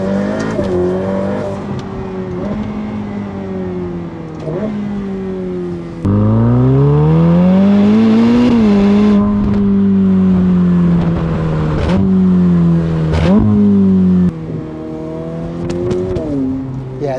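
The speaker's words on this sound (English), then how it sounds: "I just love when those exhaust valves open up" A Ferrari F8 Tributo accelerates hard in manual mode with its exhaust valves open, the loud engine note climbing through the revs, dropping sharply at each upshift and then rising again, close and sustained on a public road.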